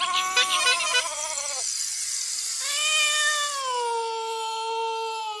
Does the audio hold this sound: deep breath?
no